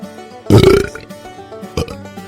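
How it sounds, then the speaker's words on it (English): A loud, wet belch bursts out, followed a moment later by a shorter second gulp, with faint background sound around it. "the Undercountry Music News Wet Belch of the Week"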